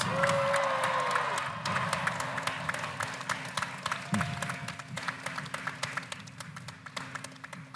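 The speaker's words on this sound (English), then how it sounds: "I think that deserves another round of applause" Audience applause at a university commencement ceremony, a dense, steady roar of many hands clapping that slowly thins into scattered, distinct claps toward the end, with a faint whistle early on.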